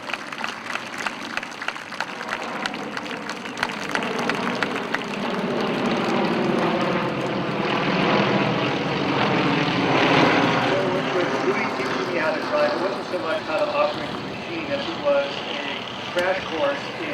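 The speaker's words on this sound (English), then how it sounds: "I want to let these planes fly over here" Propeller airplanes drone overhead at an outdoor memorial celebration in Torrance, California, a loud sustained engine roar that swells and fades over a crowd, with voices mixed in.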